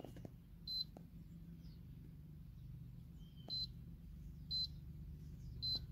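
An induction hob gives short, high electronic beeps at uneven intervals, four in all, over a low steady hum with a couple of faint clicks, inside a converted Peugeot Boxer van.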